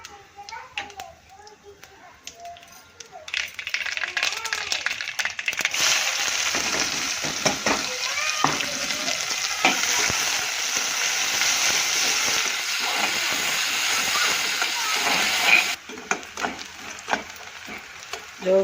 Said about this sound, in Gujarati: જો મિત્રો સરસ મજાની ડુંગળી શેકાઈ ગઈ।